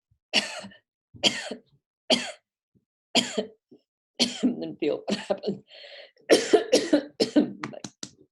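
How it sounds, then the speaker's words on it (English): Several deliberate coughs during a breathing exercise for speaking and singing, short loud bursts spaced about a second apart, with a person talking briefly between them and a quicker run of coughs near the end. "and then try coughing"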